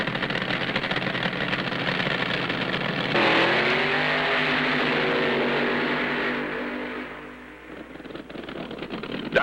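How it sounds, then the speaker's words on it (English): AA fuel dragsters race at a 1968 drag strip, engines roaring hard at a distance before a rising note surges past at about three seconds and fades away over several seconds. "In round one, it's the AA fuel dragsters with Leroy Goldstein"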